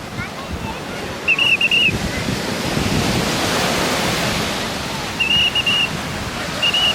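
Big ocean waves break on a shore in a steady, loud roar of surf, with brief whistle-like tones cutting in twice and no speech.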